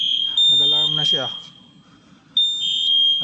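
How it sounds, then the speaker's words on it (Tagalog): A warehouse fire alarm panel shrills with a loud steady electronic tone after a sprinkler was opened, cutting off briefly and then resuming, with a voice speaking over the first stretch. "Nag-alarm na dahil binuksan yung sprinkler kanina."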